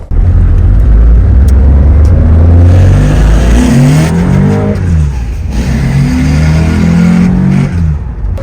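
Porsche 912 fitted with a POLO flat-4 engine accelerates hard, its throaty burbling exhaust loud and close, rising and falling through several rev surges with no talk.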